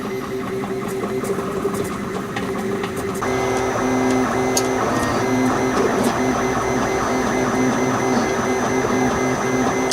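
A home-built 3D printer runs steadily while printing a prototype part, giving off continuous whirring and buzzing stepper-motor tones that shift pitch as the head moves, with a denser, louder passage partway through.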